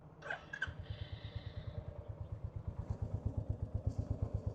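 A motorcycle exhaust idles with a slow, even thumping beat, close and fairly quiet, after a brief clatter at startup; no talking over the steady pulse.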